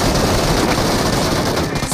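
Rapid gunfire in a battle royale video game bursts in a loud, dense barrage of overlapping shots, continuous and close for a brief moment with no voices.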